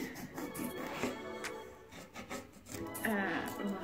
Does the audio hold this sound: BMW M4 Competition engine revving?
no